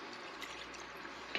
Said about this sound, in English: let's add our clam juice, and slowly, and this is a cup of clam juice